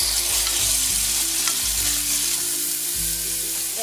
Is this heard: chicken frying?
yes